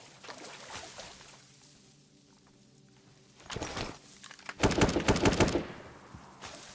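Gunfire from the video game DayZ, shots fired through reeds, arriving as a burst of loud rapid cracks near the middle and a denser, louder volley toward the end, over a low background rumble.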